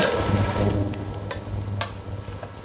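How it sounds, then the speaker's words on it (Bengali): Dried chillies sizzle and spit as they are stirred in hot mustard oil while cooking beef kala bhuna, a steady close crackle with a few sharper ticks from the stirring. "কয়েকটা শুকনো মরিচ এখন এটাকে নেড়ে চেড়ে একটু ভেজে নেব"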